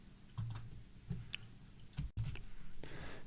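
Computer mouse clicks while a Proxmox virtual machine is being set up, a few soft, sparse clicks spaced out over a quiet room background.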